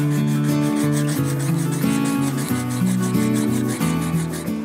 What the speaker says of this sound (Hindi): एमरी पेपर से फिर इसमें हम लोग घिसाई करते हैं स्मूथ बनाने के लिए।